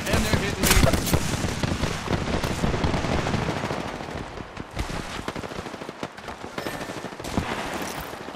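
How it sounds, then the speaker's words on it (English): Rapid automatic gunfire in the battle royale shooter Apex Legends, dense bursts of loud, close shots running almost without a break and densest early on, with faint voice activity mixed underneath. "Shot fired, and they're hitting me."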